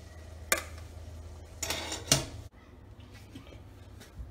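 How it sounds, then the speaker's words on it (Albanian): Half-fried potato slices being laid into a baking dish slicked with olive oil for an onion and potato moussaka, giving a few sharp clinks and soft knocks of utensil on dish over a quiet kitchen background. "Pasi kemi hedhur shtresën e parë të patateve"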